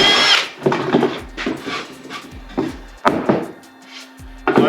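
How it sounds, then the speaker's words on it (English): A power drill bores a hole through a game camera mount in several short whirring bursts with brief pauses between them, loud and close. "So I put a one size bigger than a 1/4 inch hole through there."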